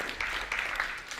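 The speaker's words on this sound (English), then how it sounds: "we give a big applause to Sam." Audience applause for a speaker at a leadership talk, a steady dense wash of many hands clapping through the whole moment, moderately loud with no voices on top.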